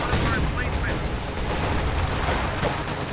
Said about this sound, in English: And that artillery is not helping.